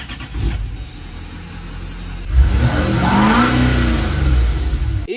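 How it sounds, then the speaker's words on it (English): A GM truck with an LML Duramax diesel engine cranks and fires up, then revs with rising and falling engine pitch before settling, close and loud, with no talking. "This thing starts without any issues."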